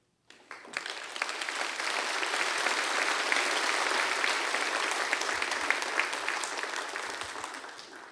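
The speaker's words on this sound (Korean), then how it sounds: "큰 박수로 환영해" A church congregation at a Sunday mission service breaks into loud, steady applause to welcome guests, swelling quickly after a brief silence and holding dense and even before easing slightly at the end.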